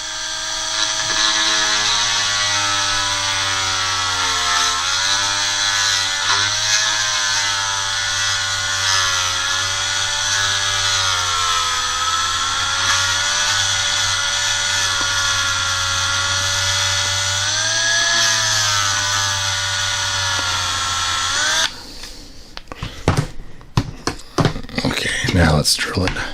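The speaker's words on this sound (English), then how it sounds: "it's time to Dremel it up." A Dremel rotary tool grinds into a Buzz Saw Hordak action figure in a steady, high-pitched whine lasting about twenty seconds, with slight pitch dips as it bites, before ending in a burst of clattering handling noise.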